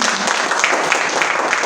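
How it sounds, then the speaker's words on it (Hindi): Steady, dense clapping from an audience fills the whole stretch, loud and continuous without a break. "एक बार फिर से तालियां इनके लिए जोड़े।"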